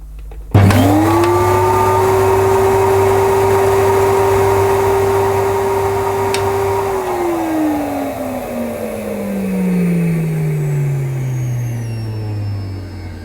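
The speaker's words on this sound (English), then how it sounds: "We'll see how much suction power this cleaner has." A vintage 1980s Electrolux Z350 cylinder vacuum cleaner starts with a thump and runs with a loud, steady whine for several seconds, then winds down gradually as the motor slows, with no speech.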